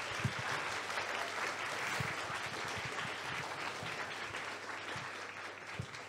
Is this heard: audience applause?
yes